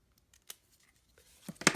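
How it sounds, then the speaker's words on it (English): Scissors snip through paper in a few short, crisp cuts near the end of a paper-craft session making a small file folder embellishment, with quiet handling noises earlier. "Then you just get a pair of scissors and cut."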